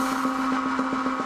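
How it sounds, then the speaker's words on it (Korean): A recording of a blender motor played back on a loop: a droning hum with a steady pitch and rapid, evenly spaced pulses repeating. "녹음한 믹서 작동 소리를 연속해서 재생하고 있는 거랍니다"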